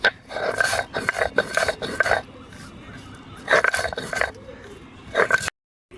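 Peppercorns, cardamom and mint ground together by hand for mint lemonade, giving repeated gritty rasping and scraping strokes in bursts, close and fairly loud, with short pauses between.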